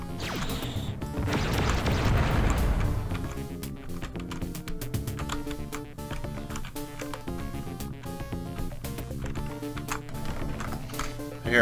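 A missile explosion in the game Descent gives a heavy crash early on, followed by rattling impacts and a persistent droning engine hum, moderately loud.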